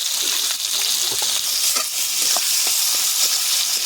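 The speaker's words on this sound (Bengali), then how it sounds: "পেঁয়াজটা লাল লাল করে ভেজে নেব।" Chopped onion with cumin seeds and salt sizzles steadily in hot oil, a close, bright hiss with light stirring clicks scattered through it and no voices.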